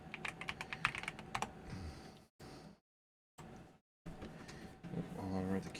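Rapid clicking keystrokes on a computer keyboard in a synth studio, sharp close taps in quick bursts, broken by brief silent gaps, with a person talking over the later part.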